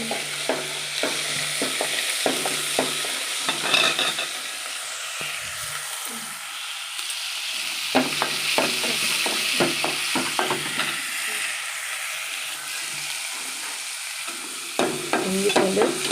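Ginger garlic paste fries in hot oil in a pan, a continuous sizzle broken by repeated scraping stirs from a utensil.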